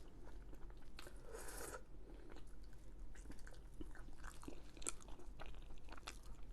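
Someone eats lamb rogan josh curry scooped up with chapati, with close, quiet wet chewing and soft bites in an irregular rhythm, plus a brief crunchy burst early on.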